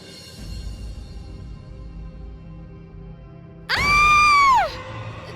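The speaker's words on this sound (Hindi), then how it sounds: "किसकी चीख थी? पता नहीं, कोई औरत होगी।" A woman's loud, piercing scream rings out alone for about a second near a haunted bridge in a forest, rising sharply then trailing off over a low rumbling background.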